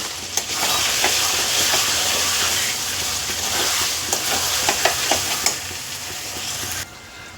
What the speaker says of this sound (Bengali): এইটাকে খুব ভালো করে কষিয়ে নেব